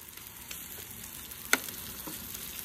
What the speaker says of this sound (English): let's fry up a little bit of mushrooms